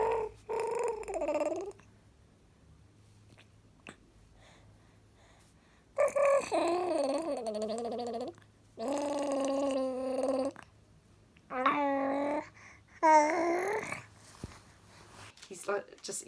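A six-month-old baby boy babbles and coos in short vocal bursts separated by pauses, close to the microphone over a faint low background hum.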